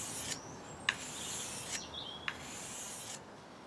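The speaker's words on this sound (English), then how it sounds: "that's another 10 minutes on the 1000 grit, and already this is feeling pretty sharp" Carving knife blade drawn across a 1000 grit sharpening stone, a steady faint rasping rub with a few soft clicks as the stroke changes, close and quiet against a hissy background.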